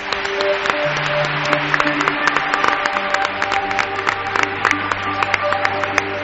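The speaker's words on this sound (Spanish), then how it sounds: "¿cómo suenan los aplausos, amigos?" An audience claps steadily and loudly for several seconds, a dense patter of many hands close by, while a musical tone sounds faintly underneath.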